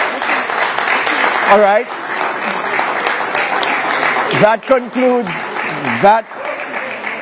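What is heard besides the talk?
applause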